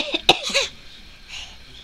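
A small child gives a few quick, sharp coughs, the loudest a single burst near the start, followed by a softer breathy trailing sound, close and indoors.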